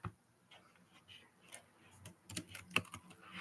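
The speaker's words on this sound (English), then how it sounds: "I'm typing." Computer keyboard keys are typed on in a quiet room, faint scattered clicks at first that grow into a quicker, slightly louder run of taps toward the end.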